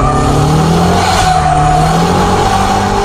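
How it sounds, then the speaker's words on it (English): Car sliding with its rear wheels locked by a shift lock, a loud continuous engine drone with tire noise holding steady for a few seconds, no talking. "The rear will suddenly lock. Then you slide, counter steer from here."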